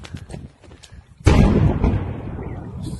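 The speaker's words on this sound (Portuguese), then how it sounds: "isso foi a grande explosão que o pessoal viu aqui" A large explosion at the port of Berdiansk during wartime strikes hits with a sudden, powerful blast after a stretch of quieter crackling and thuds, then rolls out into a long, loud rumbling decay.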